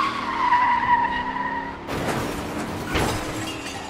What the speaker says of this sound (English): There was a loud crash coming from ahead.